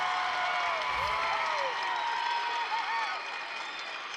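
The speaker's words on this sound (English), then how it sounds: "you can hear this crowd" A packed gym crowd at a state championship volleyball final between St. Henry and New Knoxville roars steadily, sustained cheering and shouting with whistling voices rising above the din.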